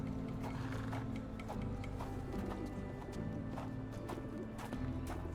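Horses in stables in the video game Sherlock Holmes The Awakened, with continuous hoof clopping and shuffling under a low rumbling ambience and faint snorts, at a moderate, steady level.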